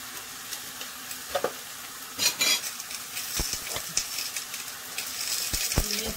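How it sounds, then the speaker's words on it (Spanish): Ground meat with onion frying in a pan, a steady soft sizzle under scattered clinks and scrapes of a utensil stirring against the pan. "Aquí solo estoy cocinando la carne unos cuantos minutos, pero ya le voy a proceder a ponerle un poquito de cebolla,"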